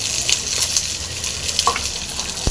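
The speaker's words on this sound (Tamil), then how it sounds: "இது கொஞ்சம் நல்லா ஃப்ரை ஆகட்டும்" Shallots, garlic, ginger and green chilli fry in hot oil for a herbal chutney, giving a steady close sizzle with a few light stirring scrapes and no talking.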